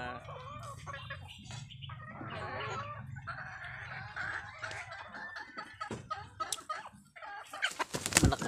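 Chickens cluck and chatter close by in a rural yard, with a bird flapping and scattered handling noises toward the end.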